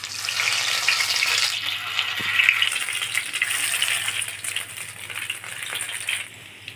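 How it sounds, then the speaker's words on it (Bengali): Pieces of pointed gourd (potol), stuffed, are laid stuffed side down into lightly heated oil, giving a steady close bubbling sizzle with light rattling throughout, no talking. "হালকাভাবে গরম করে পটলের টুকরাগুলি দিয়ে দিব"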